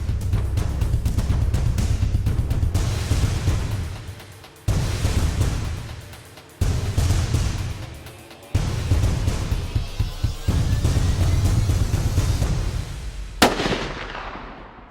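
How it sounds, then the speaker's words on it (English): Rifle shots from a 30-06 being sighted in at 100 yards: several loud, sharp reports spaced a couple of seconds apart, each followed by a long rolling echo that fades away outdoors. "So we just took the 30-06 out and sighted it in."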